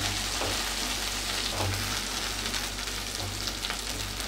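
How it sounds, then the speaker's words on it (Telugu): Onions, coriander and mint fry in hot oil, a dense continuous sizzle close by, loud and even, with light crackles throughout. "నూనె కాగాక ఇందులోకి ఉల్లిపాయలు, ఇంకా కొత్తిమీర, పుదీనా,"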